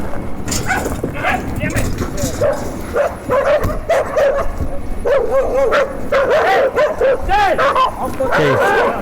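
Several dogs that have just escaped a truck bark, yip and whimper in an agitated, continuous outburst during a forest law enforcement stop, with someone talking over them throughout.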